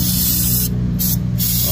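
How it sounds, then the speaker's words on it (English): An aerosol can of brake cleaner sprays in two short hissing bursts, loud and close, onto a 2008 Toyota Avalon's rear brakes, over a steady low hum in the background. "You spray some brake cleaner."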